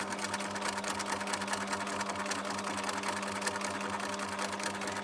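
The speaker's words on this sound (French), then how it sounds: "on va venir faire la couture ici tout le long" A sewing machine runs steadily, close up, stitching the seam of a fabric pouch with a fast, even mechanical whir and no pauses.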